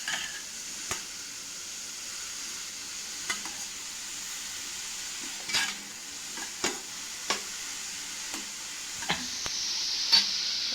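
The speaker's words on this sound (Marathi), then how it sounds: "मग व्यवस्थित मिक्स करून घेते असं" Mushroom curry stirred in a kadai off the heat, a quiet sizzle under spaced scraping strokes of a spoon against the pan, roughly one stroke every second or two.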